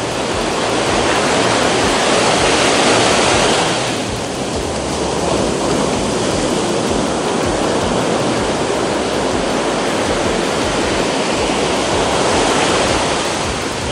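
Ocean surf rolling onto a sandy beach during shore jigging for flathead, a loud, steady wash of breaking waves with wind, no pauses and no voices.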